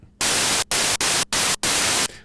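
A Moog Minimoog synthesizer switched to white noise plays a loud, bright hiss in five bursts of varying length separated by brief gaps, close and alone.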